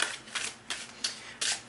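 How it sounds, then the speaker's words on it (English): Tarot cards being shuffled by hand, a few soft, papery riffling bursts spaced irregularly, quiet and close with no talking. "I'm going to go ahead and get started shuffling your cards."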